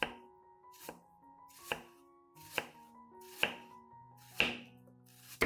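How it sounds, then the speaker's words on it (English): A knife finely chops an onion on a board: five sharp, evenly spaced strikes stand out clearly over soft, steady background music. "Next, finely chop the onion as shown in the video."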